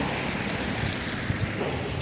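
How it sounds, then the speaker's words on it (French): Heavy rain pours down in Bayonne city centre, a dense, constant roar of water with gusty rumbling underneath, loud and close, with no voices. "là il pleut des cordes"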